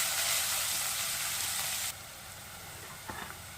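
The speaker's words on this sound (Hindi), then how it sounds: "प्याज हल्का गोल्डन कलर की होने तक इसको फ्राई कर लेंगे।" Onions frying in a pan toward light golden give a dense, close sizzle that drops abruptly to a quieter crackle partway through, followed by a few faint stirring knocks.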